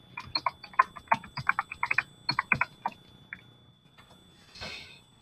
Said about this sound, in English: So now I gotta type it again.